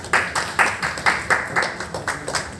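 An audience at an entrepreneurs' event in Ludhiana claps in a rhythmic, pulsing beat, a dense room-filling applause with strong regular peaks and no voices over it.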